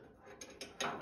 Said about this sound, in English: I'm tightening the oil filter